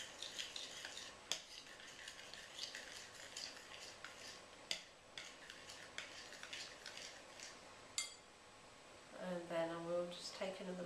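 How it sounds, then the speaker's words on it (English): Raisins and sultanas being stirred into melted chocolate, faint soft scraping with sharp spoon taps against the bowl, and a voice briefly speaking near the end. "Just stirring those in."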